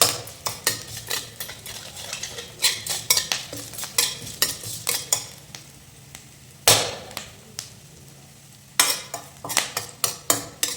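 Onion and curry leaves fry in oil in a pan, with frequent sharp clinks and scrapes of a spoon against metal over a light sizzle, irregular and close.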